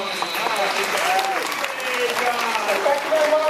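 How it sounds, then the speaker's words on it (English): An audience at a New Orleans aquarium applauds John in a steady wash of clapping with crowd voices mixed through it. "How about a round of applause for John?"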